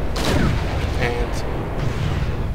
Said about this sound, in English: the artillery which we're using is pretty efficient against this player